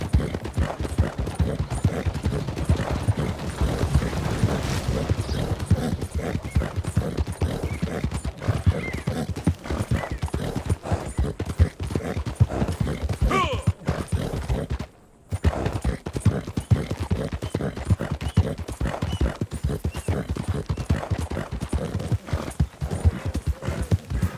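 Steady, close clip-clop of horse hooves in the Western video game Red Dead Online, rhythmic and continuous with occasional neighs and whinnies, a brief dropout midway, and no talk over it.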